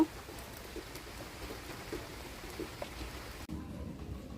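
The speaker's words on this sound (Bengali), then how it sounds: "বৃষ্টি শুরু হয়ে গেল আবার" Soft, steady rain patters in the background with scattered light drops, fairly quiet, cutting off near the end.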